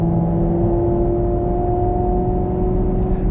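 Maserati MC Stradale engine while driving, a steady sustained drone with strong tonal harmonics at constant revs, close and loud with no talking.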